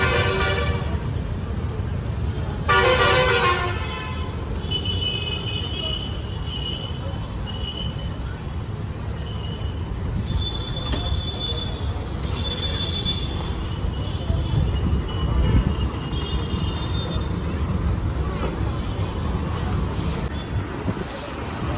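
Inside a moving non-AC sleeper bus on a long night journey, a steady loud rumble of road and wind noise runs throughout, with a brief horn blast near the start and tonal whines drifting over it.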